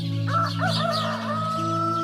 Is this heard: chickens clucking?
yes